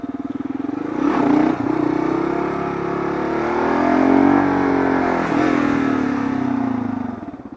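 A Kawasaki KLR650 single-cylinder motorcycle on pavement revs hard, drops briefly, then climbs and holds a loud, rising engine note before easing off near the end, close and alone.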